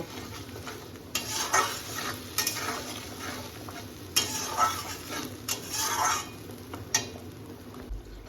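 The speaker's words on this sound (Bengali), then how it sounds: "এবার এই মশলাটাকে আমি ভালো করে ভেজে নেব" Spice paste of cumin, chilli and ginger fries in a pan under a low sizzle, punctuated by repeated scraping strokes and clinks of a spoon stirring against the metal, with no voices.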